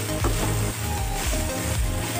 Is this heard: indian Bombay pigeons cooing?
no